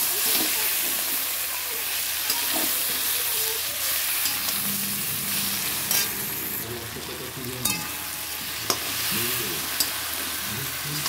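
Turmeric, cumin and chili powder sauté in a pan with a constant close sizzle and intermittent stirring clinks and scrapes, fairly soft overall.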